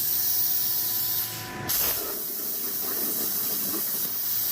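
A plasma CNC cutter slices through 6 mm steel plate over a water table, giving a loud, steady broadband hiss that drops out briefly near the middle and then resumes at full strength.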